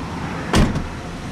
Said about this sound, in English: Go ahead and shut this door